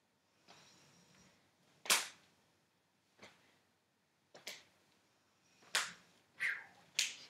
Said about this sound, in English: Letting the arms whack the body wherever they naturally fall.